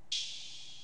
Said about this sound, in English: Then we got my open hat pattern.